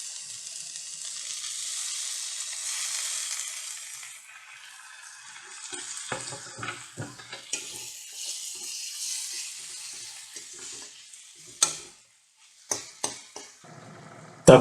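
Garlic and tomatoes fry in hot oil for bitter gourd kuzhambu, a steady hiss that fades as the pan settles, then scattered sharp clinks and scrapes of a utensil stirring near the end.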